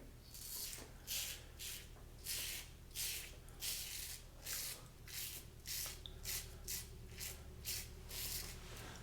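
A safety razor with a closed comb scrapes across the grain in a wet shave, making about a dozen short, rhythmic rasping strokes heard close and faint over a low steady hum.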